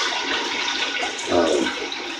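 Water running into a sink to soak a brush, a steady close rushing stream with a brief swell partway through, alone.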